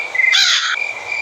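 A crow in the horror video game Granny 3 gives a single short, harsh caw lasting about half a second over a steady high electronic tone in the game's background.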